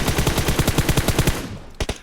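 A fully kitted M4 rifle fires on full auto in PUBG Mobile, a rapid, loud, even burst of about fourteen shots, then a brief pause and a couple more quick shots, with no talking.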